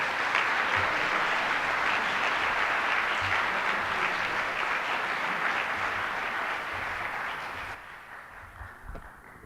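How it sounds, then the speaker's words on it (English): An audience at a plenary panel event applauds a keynote speaker with dense, sustained clapping that stays loud and even for several seconds before tapering and thinning out near the end. "Let's give a round of applause for our keynote speaker, Dr. Michael Eric Dyson."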